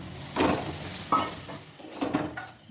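Masala water poured into spice paste frying in a pan for a vegetarian capsicum paneer dish, giving a close sizzle with bursts of stirring and a few utensil clinks against the pan.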